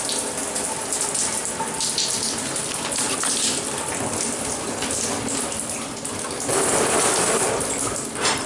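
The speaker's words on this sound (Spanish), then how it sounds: "Ducha teléfono también se encuentra funcionando" Handheld shower sprays steadily in a restroom at Brisas del Aeropuerto, a dense, close hiss of water spattering onto a hard surface, with a brief dip and then a louder surge.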